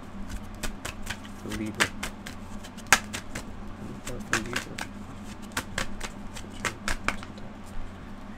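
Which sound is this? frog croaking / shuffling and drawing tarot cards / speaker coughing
shuffling and drawing tarot cards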